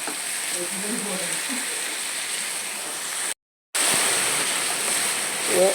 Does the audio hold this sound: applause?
no